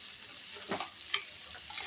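Potatoes for vegetarian aloo dum sauté in a pan, a steady close sizzle broken by a couple of scraping stirs of the spoon, no talking.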